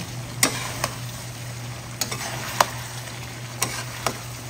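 Pork for Ilocano-style dinuguan fries in a pan, a faint steady sizzle broken by several sharp scrapes and clinks of a spoon stirring, with no talking.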